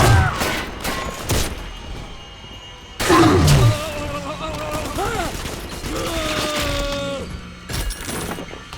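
Gunfire in the Bioshock 2 Ryan Amusements area, with sharp bursts of shots at the opening and again around the middle, mixed with clattering mechanisms, game music and a voice speaking.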